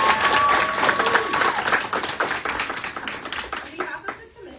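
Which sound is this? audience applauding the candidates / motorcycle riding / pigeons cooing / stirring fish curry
audience applauding the candidates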